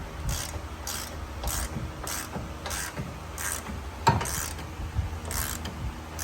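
A ratchet works loose the 18mm caliper bracket bolts on a vehicle brake, giving repeated rhythmic clicking bursts of pawl ratcheting, close and moderately loud, with a sharp metallic snap partway through.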